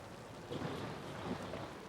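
Rain pours down steadily during a storm, a dense, even hiss with faint low rumbling underneath and no voices.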